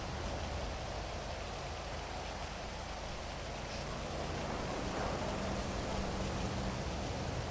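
Rain pours steadily during a race in the GTA video game, a dense unbroken hiss that stays even and loud from start to end.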